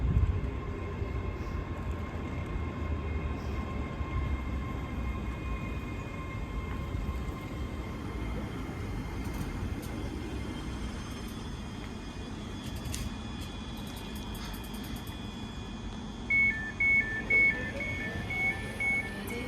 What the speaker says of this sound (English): now arriving is 385-007 for Glasgow Central